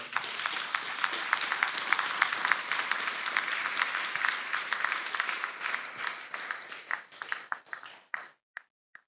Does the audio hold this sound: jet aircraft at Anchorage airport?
no